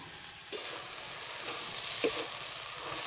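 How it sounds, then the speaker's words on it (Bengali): Washed greens, bottle gourd leaves, drop into hot oil with fried spices in a rural kitchen and are stirred, giving a steady close sizzle with soft scraping stir strokes. "এবার ধুয়ে রাখা শাক দিয়ে দেবো।"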